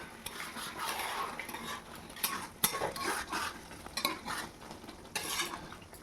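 Chicken for Bengali-style chicken kosha being stirred and cooked down in a pan: a spoon repeatedly scrapes and clinks against the metal over a soft sizzle, in close irregular bursts with no talking.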